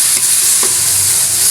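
Bitter gourd (ampalaya) sizzles loudly in a pan while being stirred, a close, continuous frying hiss broken by a couple of brief spatula scrapes, with no one talking.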